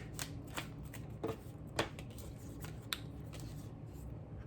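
Tarot cards being shuffled in a quiet room, a string of soft riffling flutters and light slaps at irregular intervals, close and fairly quiet, with no one speaking.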